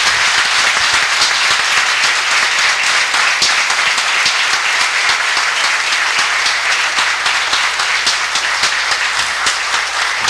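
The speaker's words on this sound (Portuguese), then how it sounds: "Salve Deus, uma salva de palmas." Sustained applause from a standing audience welcoming a master at a lecture in Ipatinga, Brazil, loud, dense and even clapping that fills the whole stretch without pause.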